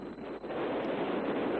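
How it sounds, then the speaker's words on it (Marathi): Strong wind buffets the microphone beside a highway where a private plane made an emergency landing in Betul, Madhya Pradesh, a steady, loud rushing roar with no voices. "वाऱ्याचा जोर खूप आहे, वाऱ्याचा आवाज सुद्धा येतोय"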